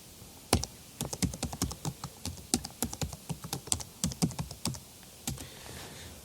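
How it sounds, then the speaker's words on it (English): Typing on a computer keyboard, a steady run of crisp close key clicks in an uneven rhythm with brief pauses, heard alone without any voices. "So in class you have to type that name of a package like"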